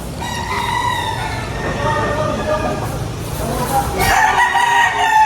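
A rooster crows loudly at a gamecock market in Padre Garcia, Batangas, one drawn-out call standing out over busy crowd noise, with people talking throughout.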